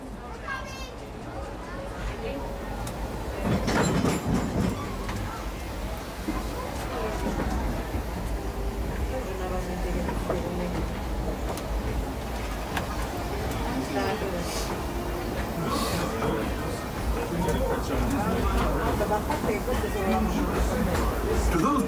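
The Disneyland Railroad train rolls along its tracks with a continuous low rumble and rattle. The sound sits under steady crowd chatter and voices from passengers aboard.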